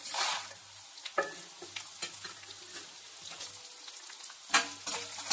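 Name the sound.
tempering of dry chillies, cumin and chana dal frying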